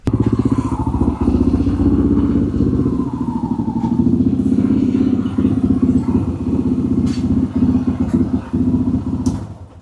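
A motorcycle engine runs loud and close throughout while being ridden, a steady rough drone with occasional clatters and thumps from the bike over the ride.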